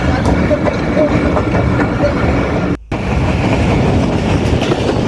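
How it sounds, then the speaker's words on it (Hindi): Jaffar Express passenger train picking up speed leaving Quetta, heard from inside as a loud, continuous rumble with rhythmic wheel clatter, briefly cut out for a moment midway. "जाफर एक्सप्रेस ने आहिस्ता आहिस्ता अपनी स्पीड को कवर करना पिक करना शुरू किया है।"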